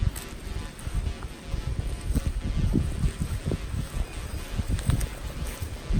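Steady wind buffeting outdoors, a low rumbling gusty noise with rustling, continuous and moderately loud, no voices.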